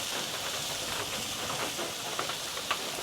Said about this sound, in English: We're going to go ahead and sprinkle on some onions on there.